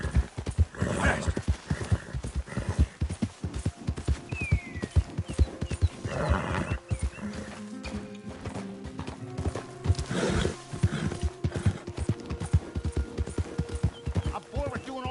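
Horse hooves clip-clop at a steady gallop in the Red Dead Redemption video game, with whinnies and neighs breaking in over busy game ambience, and a voice speaks at times.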